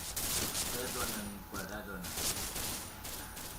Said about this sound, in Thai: เป็นการยิงปืนพกที่มั่วซั่วแหลกมาก